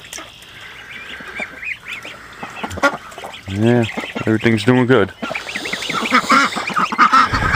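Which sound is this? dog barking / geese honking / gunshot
geese honking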